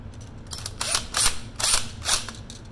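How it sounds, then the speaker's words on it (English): A screwdriver tightens wire terminal screws on an electrical outlet, giving several short, quiet ratcheting and clicking bursts in a steady rhythm with pauses between turns. "Just screw the other ones in."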